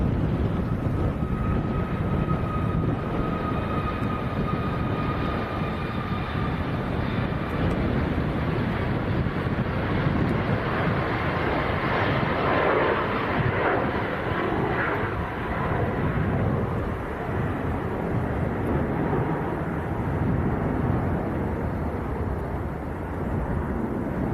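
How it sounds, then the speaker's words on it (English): A Ryanair Boeing 737 MAX rolls for takeoff at Leeds Bradford Airport bound for Malaga, a broad, steady engine rumble heard from a distance, mixed with constant wind buffeting on the microphone. "Next to go, rolling now actually, Ryanair 738 MAX going down to Malaga."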